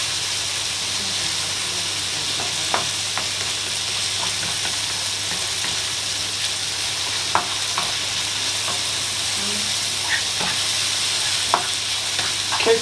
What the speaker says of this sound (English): The bacon's cooked through and the mushrooms have cooked down nice and well.